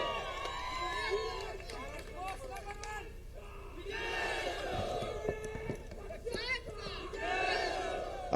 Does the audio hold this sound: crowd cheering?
yes